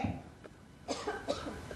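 A person gives two or three short, dry coughs, fairly faint and close, against a light background hiss, with no talking.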